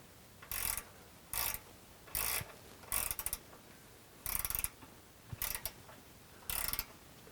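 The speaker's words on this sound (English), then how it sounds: "I'm going to use a gear wrench to do this." A gear wrench ratchets while loosening suspension bolts on a Lexus GX or Toyota 4Runner, clicking in seven short bursts with brief pauses between, close and clear with no talk.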